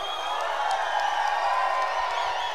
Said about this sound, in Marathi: शिट्ट्या, टाळ्या झाला पाहिजे जोरदार